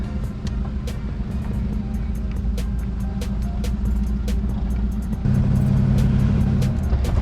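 A Shoebox Ford car runs on its first drive of the year, its engine a steady low rumble heard from close by, with road noise and a rise in engine note near the end.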